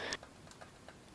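Hot motorcycle exhaust, freshly changed from a straight pipe, ticks faintly as it cools, a few soft irregular clicks spaced apart after one slightly louder tick.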